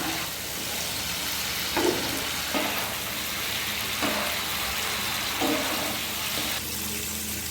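Spice paste for a Bengali bata fish curry sautéing in hot oil, a steady broadband sizzle with several louder bursts as it is stirred, close and continuous without talk.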